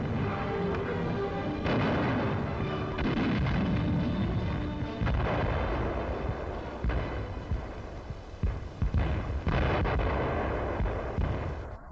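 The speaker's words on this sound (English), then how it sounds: "An artillery division in action." Heavy artillery from a German artillery division in action, on a 1944 wartime newsreel: a dense, continuous barrage of booming gunfire and blasts with an old, narrow-band archival sound.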